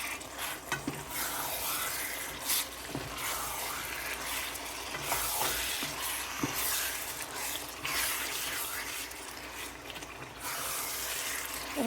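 Boneless beef pieces frying with cinnamon, cardamom and bay leaves for beef biryani, stirred steadily in the pot: a continuous close sizzle with scraping stir strokes and occasional clinks, no talk.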